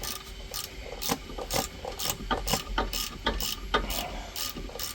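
A ratchet wrench loosens brake parts on a Vauxhall Corsa VXR during a disc and pad change, giving a quick run of sharp metallic clicks in uneven bursts, close by and alone.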